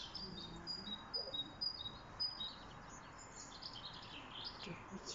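Faint, high chirping song of a blackbird repeating in short phrases over a quiet outdoor background.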